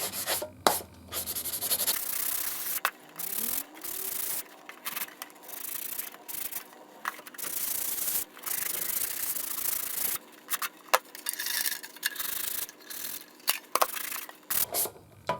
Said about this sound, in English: So I'm going to take the tin and just scratch it about a bit.